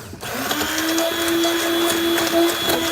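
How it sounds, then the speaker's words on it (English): An immersion blender whirs steadily at a high, even pitch, running continuously and close up with a slight wobble in tone. "let's try our immersion blender"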